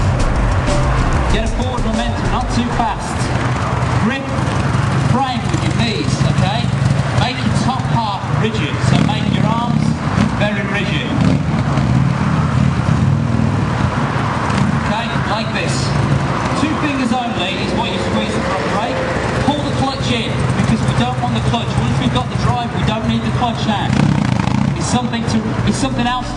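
A Buell motorcycle engine runs steadily and loudly for the whole stretch during a stoppie stunt lesson, a continuous rough drone with a voice talking over it.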